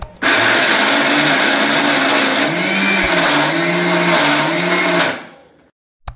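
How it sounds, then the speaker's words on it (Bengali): A blender grinds soaked chana dal for halwa in one loud, steady whir that runs for about five seconds, then cuts off and winds down to silence. "লাগানোর পরে এটা আমি ভালো করে ব্লেন্ড করে নেব।"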